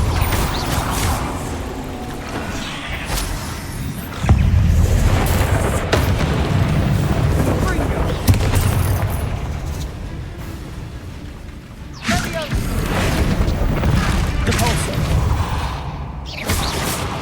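Heavy booming blasts from a Repulsor spell in Hogwarts Legacy, deep rumbling impacts that surge loudly and sustain within a noisy battle, with a second strong burst later amid continuous crashing game audio.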